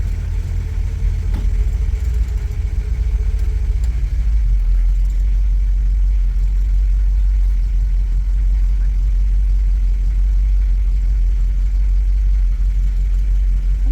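A 1959 Cadillac Coupe Deville idles in gear inside a shop, a steady deep rumble heard close and loud throughout, with no speech over it.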